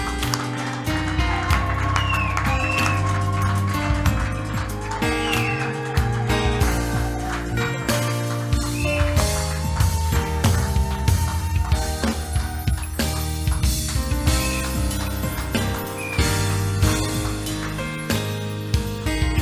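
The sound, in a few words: church congregation clapping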